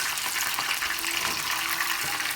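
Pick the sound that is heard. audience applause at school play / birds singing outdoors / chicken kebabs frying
chicken kebabs frying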